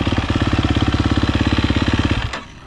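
A warmed-up motorcycle engine idles steadily at a wet training track, a fast even pulsing thump close by and loud, cutting off abruptly near the end.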